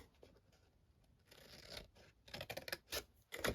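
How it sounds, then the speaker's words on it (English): Scissors snip through paper along a score line while wrapping a hand cream gift package, quiet at first, then a cluster of close, crisp cuts and rustles toward the end. "cut along just to that score line"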